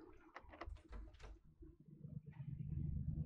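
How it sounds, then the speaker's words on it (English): A door in the game Between These Walls opens with a clunky, low scraping rumble that builds toward the end, following a few sharp knocks and clatters. "these door opening noises, they're so like clunky and weird"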